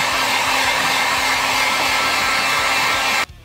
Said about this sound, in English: to help with some of the drying time of the paint, you could hit it with a hair dryer or, in this case, a heat gun.